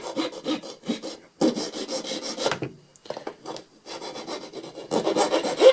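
A hand file rasps along the freshly cut metal edges of a backpacking pot, close and fairly loud, in rhythmic strokes separated by short pauses.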